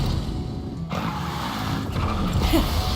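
A car in the Genshin Impact video game drives at speed with a steady engine roar and the hiss of sliding tires, loud and continuous, under brief game voices.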